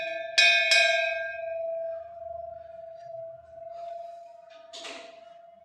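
A bell is rung at a Hindu temple with idols of Shiva and Parvati, beside a monastery: two quick clear strikes, then a long steady ringing tone that slowly fades, with a brief soft clatter near the end.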